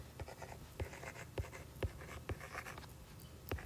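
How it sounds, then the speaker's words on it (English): Hand-writing the number 185, a faint close pen scratching across paper in short repeated strokes with small taps, alone without talk. "So that's how I'm going to write it"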